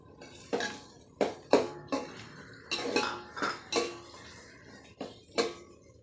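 Capsicum and onion stirred in a pan, heard as a series of about ten distinct metallic scrapes and clinks of a spoon on the pan over a faint background, close by.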